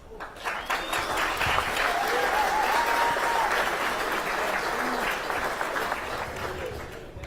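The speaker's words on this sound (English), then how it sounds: "You're not supposed to applaud me." A crowd gathered at a topping-out ceremony for a Utah high-rise applauds steadily and loudly for several seconds, with scattered voices and a brief whistle-like tone mixed into the clapping.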